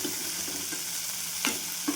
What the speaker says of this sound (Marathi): हे पण छान परतून घ्यायचं तेलामध्ये, छान मंद गॅसवर.